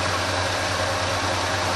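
A Ford F350 engine with a rebuilt carburetor idles during carburetor adjustment, a steady low hum that holds even throughout.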